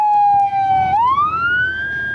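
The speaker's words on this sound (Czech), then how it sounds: "V zápětí výjíždí záchranka znovu." An ambulance siren wails loud and close, holding one tone and then sweeping upward as the emergency vehicle pulls away, with no voices.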